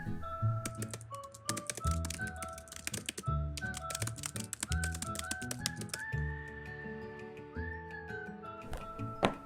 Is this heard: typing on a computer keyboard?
yes